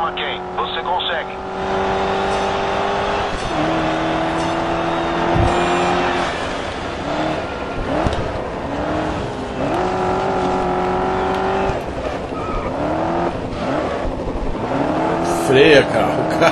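Race car engines in the video game Grid Autosport whine and shift gears continuously, with rising and falling revs and a brief tire squeal near the end, while voices talk over the racing.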